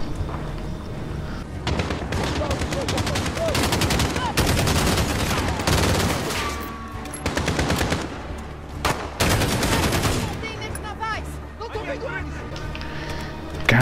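Gunfire in the video game Call of Duty Modern Warfare, loud bursts of rapid automatic fire and single shots in dense clusters with pauses between, while a player talks excitedly over the action.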